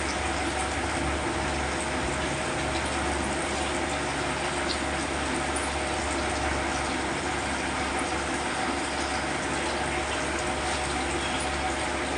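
Water gushes steadily into a drum, making a continuous, dense rushing and splashing sound that stays even and close for the whole stretch, with no break.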